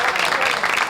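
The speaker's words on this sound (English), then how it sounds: "The applause is not for me." A studio audience applauds briefly and steadily, a short burst of even clapping, during a live 1992 Labor Day telethon broadcast from a Minneapolis–St. Paul TV station.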